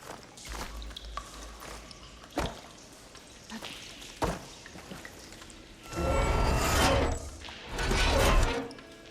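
Water leaking from pipes in the game Horizon Forbidden West: scattered drips and splashes early on, then two louder bursts of gushing, spattering water later, with no talk.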